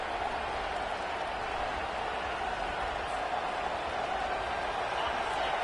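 Stadium crowd noise from a college football video game: a dense, steady roar of a large crowd, with no distinct cheers or breaks.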